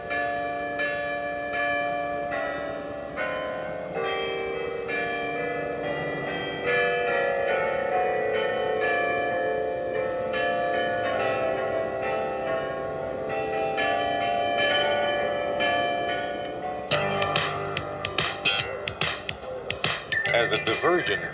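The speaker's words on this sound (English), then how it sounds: "The Rainbow Caravan, located at the Rainbow Bridge, contains 55 bells weighing 43 tons." A carillon of 55 bells weighing 43 tons at the Rainbow Bridge, Niagara Falls, rings out a sustained, resonant melody of overlapping tolls, turning to brisker, clangorous strikes near the end.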